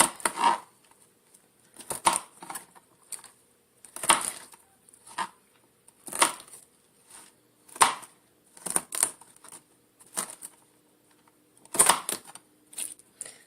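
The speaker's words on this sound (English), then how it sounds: "So I'm just going to give them some broccoli here, and I just throw the stems in here. And then kind of chop this up." Broccoli stems are chopped on a cutting board in sharp, irregular knocks, close and distinct, some struck singly and others in quick clusters with short quiet gaps between.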